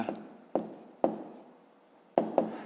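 A pen writing a math answer on paper, five short scratchy strokes with small pauses between them, close and alone.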